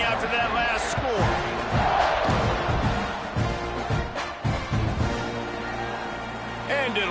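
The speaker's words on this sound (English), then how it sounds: "this crowd is buzzing after that last score" A stadium crowd roars and buzzes in a college football video game, a loud continuous wash of cheering with play-by-play commentary running over it throughout.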